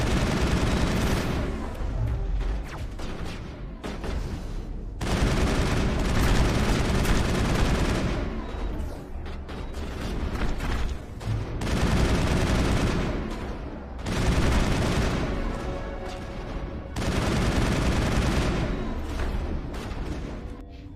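Gunfire in the video game Mass Effect, dense bursts of loud rapid shots in several volleys separated by short pauses, with booming impacts mixed in.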